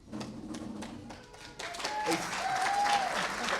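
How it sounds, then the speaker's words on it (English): A city club audience begins clapping as a member is called up, scattered claps first, then building into fuller applause with a voice and a brief whistle-like tone mixed in. "Hold your applause"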